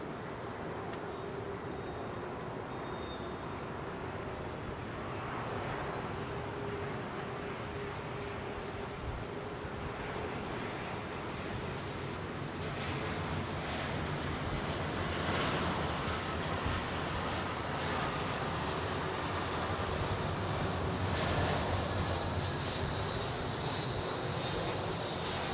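A jet airliner rolls down the runway at London Heathrow and lifts off, its engine roar a steady, broad rumble that swells gradually over about twenty-five seconds.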